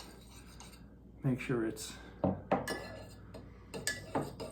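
A spoon stirs instant coffee in cups, giving a few light metallic clinks and scrapes beneath a person's speech.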